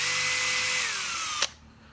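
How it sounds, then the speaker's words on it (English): A power drill whirs loudly and steadily near the microphone, its motor pitch sinking as it winds down before a sharp click and sudden quiet. "is a drill. A power tool,"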